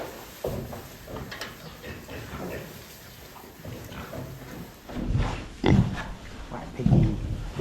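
Pigs grunt in a barn pen: scattered low snorts and oinks sound close, growing louder and more frequent toward the end, with shuffling and rustling noise underneath.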